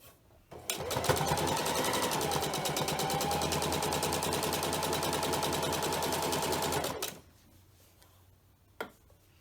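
A home sewing machine stitches fabric for a pleated pocket mask in one continuous run of rapid, even mechanical ticking for about six seconds, then stops, leaving quiet room tone and a single soft knock near the end.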